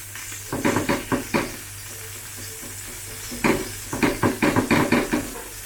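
A wagyu rib eye steak fries in olive oil in a pan, crackling and sizzling steadily under two bursts of rapid scraping and turning against the pan, close and fairly loud, with no voices.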